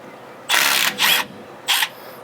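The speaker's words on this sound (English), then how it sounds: "M12 fuel 1/4 inch impact driver with a little adapter to get a socket on" Three short bursts from an M12 Fuel 1/4 inch impact driver with a socket adapter zipping out differential cover bolts, close and fairly loud with brief pauses between runs.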